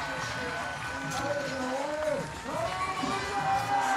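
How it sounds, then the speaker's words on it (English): A crowd roars and cheers steadily at a BMX flatland freestyle World Cup final, a dense wash of noise beneath continuous commentary. "The crowd here is incredible."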